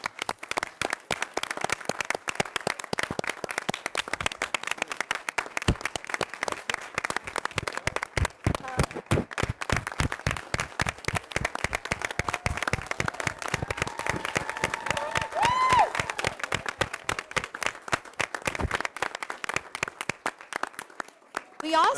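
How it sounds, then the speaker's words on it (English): Sustained audience applause at a city council meeting in Forest Park, crisp individual claps in a steady rapid patter lasting over twenty seconds, fairly close and even in loudness. "I applaud you, brother. I applaud you."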